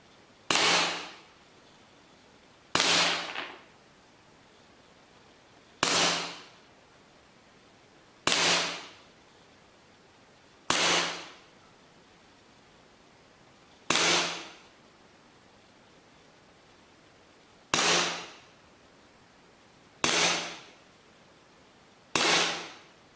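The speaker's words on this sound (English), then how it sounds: "the KWC Luger shoots extremely well" A KWC 6mm P08 Luger BB pistol fires nine sharp, crisp shots at irregular intervals of about two to three seconds, each a loud close snap with a short decay and quiet between.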